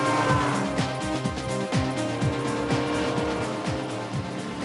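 A modified scrapheap race car with nitrous corners hard, its engine rising and falling in repeated revving sweeps alongside tyre noise, loud and continuous throughout.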